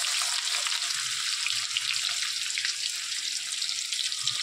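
Steady bright hiss of cumin seeds and onion sizzling in hot oil for a tempering, loud and continuous without pause, no voices.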